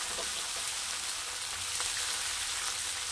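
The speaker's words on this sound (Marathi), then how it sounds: "टोमॅटो पण आपल्याला चांगला नरम होईपर्यंत परतून घ्यायचंय" Tomatoes sautéing in oil with onion and chilli, a faint, even crackle and hiss of frying that stays steady throughout with no talk.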